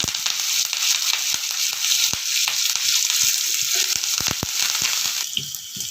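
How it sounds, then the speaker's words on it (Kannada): Chana dal and chopped green chillies frying in hot oil, a steady loud sizzle with scattered crackles and pops throughout, no voices. "ಒಂದು ಸ್ಪೂನು ಕಡಲೆಬೇಳೆ ನಾಲ್ಕು ಹಸಿಮೆಣ್ಸಿಕಾಯಿ ಹೆಚ್ಚಿಟ್ಕೊಂಡಿದ್ವಲ್ಲ ಅದು ಫಸ್ಟೇ ಹಾಕಿ ಯಾಕೆಂದರೆ ಎಣ್ಣೆಲಿ ಒಂದು ಸ್ವಲ್ಪ ರೋಸ್ಟ್ ಆದರೆ ಖಾರ ಬರೋದಿಲ್ಲ"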